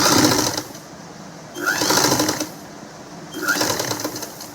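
Sewing machine stitching a baby frock from blouse-piece cloth, running in three close, loud bursts of rapid whirring stitches separated by brief quieter pauses.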